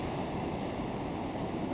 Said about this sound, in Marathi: ह्या उसळणाऱ्या लाटा मला खूप आनंद देत आहेत